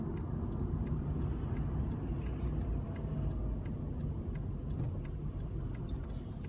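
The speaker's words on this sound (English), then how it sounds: "it's quite busy, a bit of traffic around." Steady road traffic around a busy spiral roundabout, heard from inside a moving car as a continuous low rumble, with a faint regular ticking over it and no talking.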